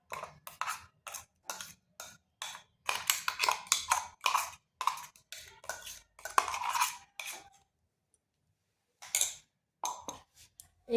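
A spoon works apple paste and flour together in a bowl, giving a run of close, scraping clinks and taps against the bowl in short bursts, with a pause near the end before the stirring resumes.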